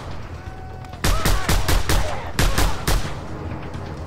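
Gunfire in the video game Just Cause 2, a burst of loud, sharp shots in an irregular rapid rhythm after a quieter stretch of background ambience, with faint game sound underneath.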